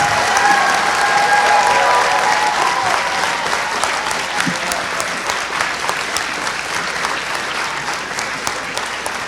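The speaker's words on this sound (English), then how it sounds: "Let's give the class of 2023 a huge round of applause." An audience applauds the graduating class of 2023 at a Bala Vihar annual day, sustained, dense clapping from a sizable crowd that holds steady for the whole stretch and fades slightly toward the end.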